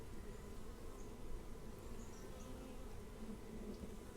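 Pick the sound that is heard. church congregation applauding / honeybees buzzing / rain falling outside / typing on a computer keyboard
honeybees buzzing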